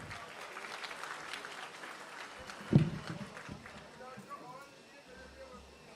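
Applause from an audience at the opening ceremony of a drip irrigation pipe production facility, a steady patter of clapping rising briefly near the middle, with talk from the event mixed in.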